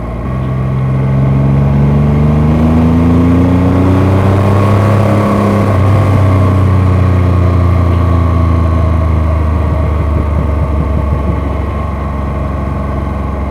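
A 2025 Triumph Rocket 3 R Storm motorcycle roars close and loud while riding, its engine rising and falling through revs as it accelerates, with a constant rush beneath.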